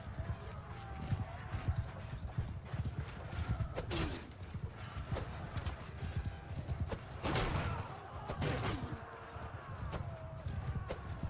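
Horses galloping in a battle scene from the Spartacus video game Eagle Rising, with steady rapid hoofbeats, a couple of neighs and clashing bursts heard up close.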